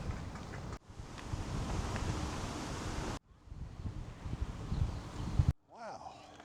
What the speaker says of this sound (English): Wow, this wind is kicking.